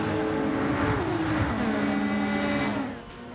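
Toyota Supra GT500 race car in Gran Turismo 7 with its engine revving and braking into a corner, pitch sliding down as it slows before a brief drop in level.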